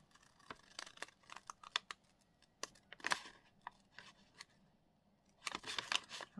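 Scissors snip through paper while cutting around printed books on a bookshelf page for a junk journal, a string of close, crisp clicks and rustles in irregular bursts, with a dense flurry near the end.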